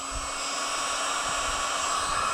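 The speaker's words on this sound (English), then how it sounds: "I put the heat gun on low" Steady, close whirring hiss of a heat gun running on low, warming a Kawasaki 1000 Concours motorcycle gas tank before lining it, constant and unbroken with no voices.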